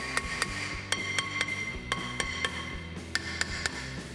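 Hammer whacks on the rear brake rotor of a 1990 Nissan 300ZX Turbo, about a dozen light metallic taps spaced through the clip over a steady background hum.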